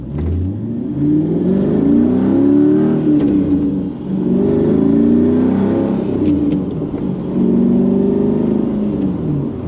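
A Mercedes C55 AMG with a six-speed manual gearbox revs and pulls hard, its loud engine note climbing through the gears with brief dips at the shifts, heard close from inside the car with no talk.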